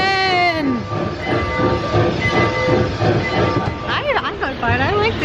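A train pulls into a station at a Christmas attraction, its wheels rumbling and clattering steadily and close, while people talk throughout.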